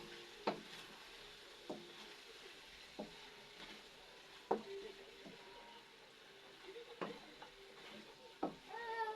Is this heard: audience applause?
no